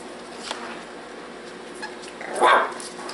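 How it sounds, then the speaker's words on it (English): A Shiba Inu puppy lets out a single short, high yip near the end, close by, after a few faint whimpery sounds in a quiet room. "Are you barking at me?"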